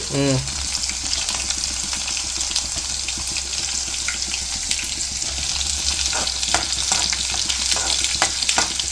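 Garlic and dried red chilies fry in hot oil for a Rayalaseema wet chili dal, giving a loud, continuous sizzle with stirring and clattering throughout.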